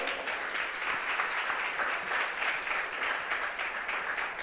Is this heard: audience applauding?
yes